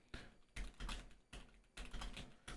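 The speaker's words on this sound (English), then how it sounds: "The typing is a little loud." Keys clatter in uneven bursts of typing on a computer keyboard in a quiet library, close and fairly crisp, with short pauses between runs of keystrokes.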